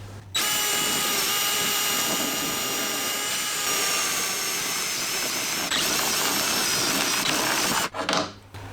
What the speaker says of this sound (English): I'm going to use this hole enlarger drill to get as big a hole as I can here